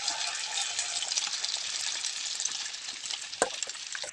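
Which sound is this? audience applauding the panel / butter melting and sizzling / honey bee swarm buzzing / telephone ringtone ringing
butter melting and sizzling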